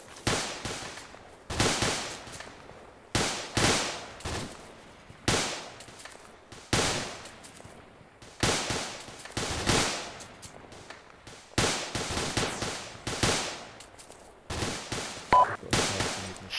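Gunfire during a military section assault training exercise: repeated loud, sharp shots and short bursts spread across the span, each echoing outdoors, with irregular gaps between volleys.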